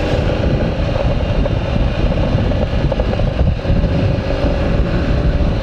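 A 2017 Ducati Scrambler Cafe Racer rumbling through Termignoni exhaust pipes while riding on a highway, a continuous low engine drone mixed with heavy wind rush, loud and steady with no talking.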